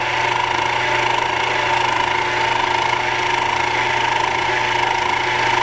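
A small lathe turns little metal parts with a steady, loud motor whine and hum that holds unchanged from start to finish, with no breaks.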